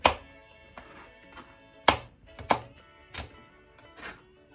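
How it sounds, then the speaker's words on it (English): A knife roughly chops garlic on a board for Jamaican roast fish, with about six sharp, uneven thunks close by and short pauses between them. "My garlic, I'm just going to roughly chop this."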